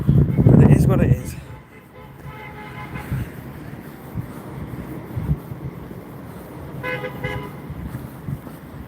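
A car horn toots briefly near the end of the stretch, heard from a busy street while someone walks through traffic, with a steady traffic rumble and a louder passing noise at the start.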